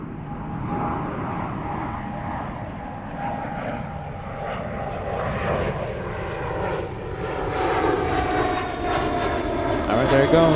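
An airliner departing Zurich airport rumbles with a broad engine roar that grows steadily louder over several seconds, heard from a distance, as a person talks nearby.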